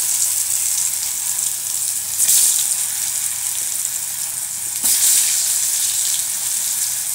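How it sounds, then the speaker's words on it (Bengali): Potato pieces fry in hot oil with a little turmeric in a wok. The sizzle is loud and continuous, and two brief stirring surges rise above it. No one speaks. "আলুটা ভেজে তুলে নেব।"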